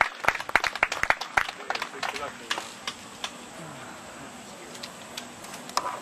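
An audience at a folk music club's annual picnic applauds after Bob Conroy's folk song. The crisp clapping starts dense and close, then thins into scattered claps with faint voices in the background.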